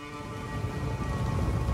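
Steady rainfall during a Total War: Pharaoh Dynasties battle at Troy, a soft continuous patter and hiss at low level lasting under two seconds, with no other sounds standing out.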